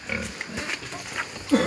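A farm pig grunts at feeding time, short low snorts and grunts close by in a rural pen, with a faint voice and outdoor background noise around them.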